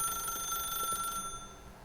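A phone in the video game The Stanley Parable rings with a steady, high electronic trill that holds for about a second before cutting off, leaving a quieter background hum, with no talk.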